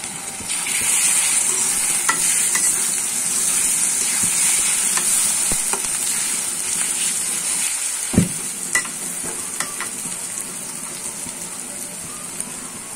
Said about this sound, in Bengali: পেঁয়াজগুলো আমি ভালোভাবে ভাজা ভাজা করে নিয়েছি। এখানে আমি 1 চা চামচ রসুন বাটা, 1/2 চা চামচ আর আদা বাটা দিয়ে দিব।